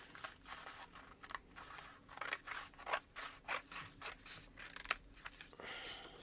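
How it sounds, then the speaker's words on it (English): Scissors snipping thin strips from masterboard card, a steady run of crisp close cuts with rustling paper between them, quiet and without speech. "I'm just going to start cutting. So I think I want some thin ones."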